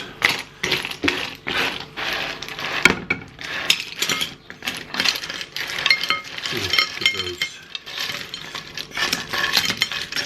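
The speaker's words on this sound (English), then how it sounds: "Time to dish cockles up." Cooked cockles in garlic butter are dished up, their shells clinking and clattering against one another and the dish in quick, irregular bursts that run continuously throughout.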